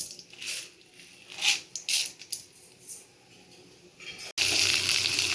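Urad dal tipped into hot oil for tomato chutney, with faint intermittent crackles and stirring clatter, then a sudden steady, louder sizzle that takes over near the end.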